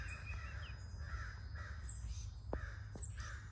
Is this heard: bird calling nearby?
yes